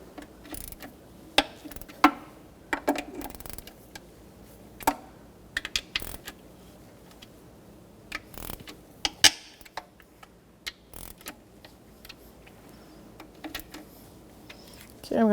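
Intake manifold bolts on a 2014-2019 Toyota Corolla 1.8L four-cylinder being run in by hand with a 12mm socket, giving a scattered series of small metallic clicks and ratchet ticks at close range over a quiet workshop background.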